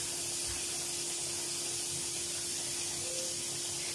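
Hara bhara kabab frying in hot oil, a steady loud hiss and sizzle that runs unbroken throughout.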